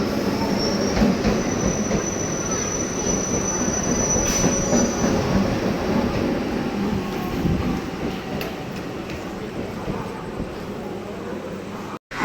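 A train pulls into Baruipara station in West Bengal, its wheels squealing in a long, high, steady screech over loud continuous rumbling and clatter of the carriages, ending in a sudden cut.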